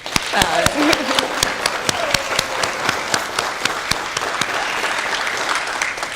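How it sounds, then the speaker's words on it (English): Audience applause at a state government workforce event: steady clapping from a crowd with sharp individual claps standing out close by, while a voice talks briefly near the start. "let's give another round of applause"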